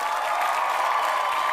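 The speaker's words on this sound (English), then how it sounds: "can clap it up for St. Brown." A burst of crowd applause plays as a sound effect, a dense, even patter of many clapping hands that stays at the same level from start to finish, with no speech.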